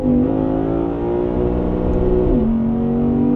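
Lexus IS 500 with a 5-liter naturally aspirated V8 engine, a loud, close, sustained engine drone holding steady pitch with a brief dip and shift around the middle, heard from inside the car.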